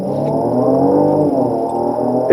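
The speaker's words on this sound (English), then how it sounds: "That V6 sounds beautiful as it accelerates away there" A Genesis GV70 SUV's 3.5-litre twin-turbo V6 accelerates hard, a loud, close, rising engine drone with a steady harmonic growl, heard alone without talk.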